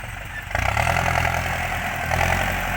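Tractor engine running at a dirt work site, a steady mid-pitched diesel chug that firms up and grows louder after a brief pause, holding a constant idle close by with faint background noise.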